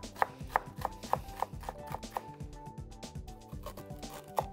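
Half a fennel bulb being diced into small cubes with a knife on a board, a steady run of close, crisp chops in quick, even rhythm.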